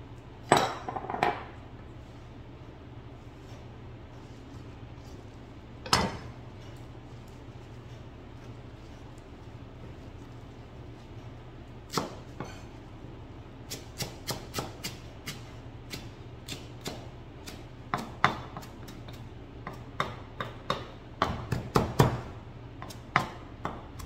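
A knife chops basil on a board in scattered sharp taps, a few isolated strikes early on, then quicker irregular clusters toward the end, fairly quiet and close.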